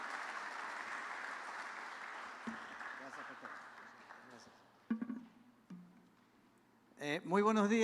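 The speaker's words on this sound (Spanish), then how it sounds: "Demos un aplauso de bienvenida a nuestros hermanos." A church congregation applauds in welcome of visiting Gedeon Ministry guests, a broad steady clapping that fades out, followed by someone starting to speak.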